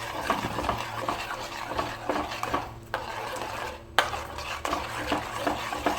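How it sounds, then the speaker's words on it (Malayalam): A spoon stirs bread pudding custard mixture in a pan, producing continuous close scraping and soft bubbling with occasional clinks against the metal, and a brief dip in the middle. "നമ്മൾ ഇത് വറ്റുന്നത് വരെ ഇങ്ങനെ ഇളക്കിക്കൊണ്ടേയിരിക്കുക"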